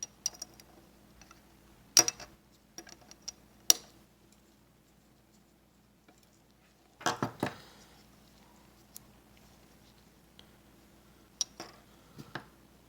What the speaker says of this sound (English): Take your wire cutters and cut off the leads.